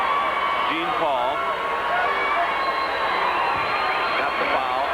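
A dense, steady roar from the crowd at a 1984 Simeon vs. Evanston high school basketball game during a free throw. Loud cheering and shouting fill the whole stretch without a break, with whistle-like rising calls cutting through.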